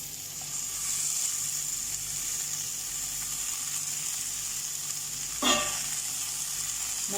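Vegetables, in this case radish, sizzle and fry steadily in a pan of roasted masala, a continuous hiss at moderate level with a brief louder clatter about two-thirds of the way through.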